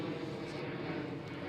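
A German Airways Embraer E190 jet, formerly a British Airways CityFlyer, rumbles steadily at Amsterdam Schiphol airport, a continuous broadband engine roar at moderate distance with no break.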